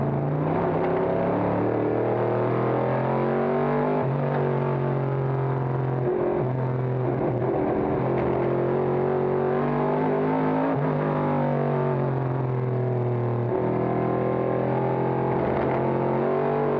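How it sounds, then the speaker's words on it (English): Vintage race cars, a 1963 Mustang and a 1971 AMC Javelin among them, roar around the track at a historic racing reunion, engines droning loud and steady with rising and falling pitch as they shift and pass, no voices. "Lala in the 63 Mustang from down under now moves up in the second spot, dropping the Epsman Javelin"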